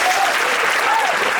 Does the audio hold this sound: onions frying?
no